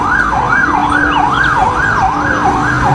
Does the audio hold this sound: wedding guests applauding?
no